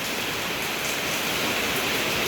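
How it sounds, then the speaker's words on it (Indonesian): Rain falling outdoors makes a steady, even broadband hiss for a couple of seconds, with no voices. "Ini kondisi cuaca hujan."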